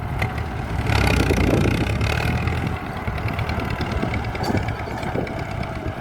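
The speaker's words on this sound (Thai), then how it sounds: "ท่านใดที่ชอบรถไถก็นี่แหละครับ" A tractor engine runs steadily while pushing soil to build an access path into a rice field, a continuous rumbling drone at moderate level with no break.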